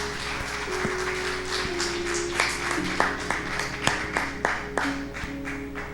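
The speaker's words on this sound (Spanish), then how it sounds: "Bríndele un fuerte aplauso al Señor" A church congregation claps after a prayer, a broad wash of hand claps with scattered sharper individual claps and sustained organ-like tones underneath, steady and moderately loud throughout.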